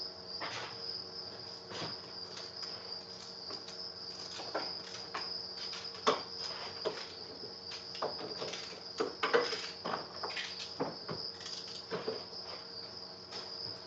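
Hatching baby crickets chirp continuously in bins, a steady high-pitched trill with scattered clicks and rustling handling noises nearby.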